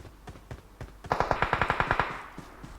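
Automatic gunfire in the mobile game PUBG Mobile: a rapid burst of about a dozen sharp shots rattles off in quick succession, preceded by a few scattered quieter pops.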